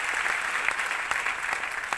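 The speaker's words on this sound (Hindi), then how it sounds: "मैं चाहूँगा सभी मेरे अप्लायंस के लिए एक जोरदार तालियां।" An audience at a wellness company achievements event claps briefly, a close, steady patter of many hands over about two seconds.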